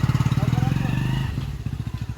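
A motorcycle engine putters in a fast, steady pulsing rhythm close by, loud and continuous as the bike rides along, with no talking over it.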